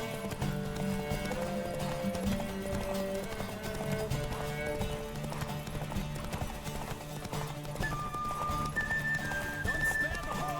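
Horse hooves clip-clop at a steady gallop under continuous music, with a brief whinny; the hoofbeats sit fairly close and the overall level stays loud, during a horse race in The Witcher 3 video game.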